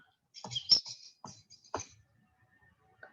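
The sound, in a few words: ponderosa pine red crossbill call recording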